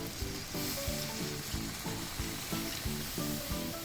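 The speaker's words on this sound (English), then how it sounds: "I kept whisking it." A whisk beats an egg and milk mixture in a bowl with a quick, even rhythm of repeated scraping strokes, close up and continuous, with no talking.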